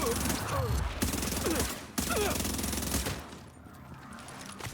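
Dense, rapid automatic gunfire from a shooter video game, loud and near, with bursts of shots broken by short gaps and a fainter stretch toward the end.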